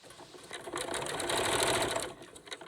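A sewing machine stitches rickrack and bias tape onto a fabric face mask, a short close whirring run that builds, holds for about a second and a half, then winds down.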